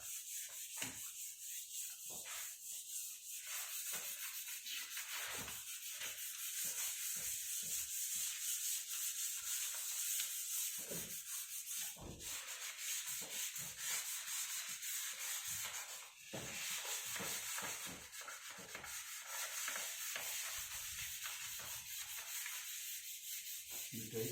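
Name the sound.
sanding melamine coating between spray coats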